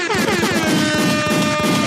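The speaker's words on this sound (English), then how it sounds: "the air horn" A blaring air horn sound effect, several loud overlapping horn blasts stacked into a harsh, continuous honking burst lasting about two seconds.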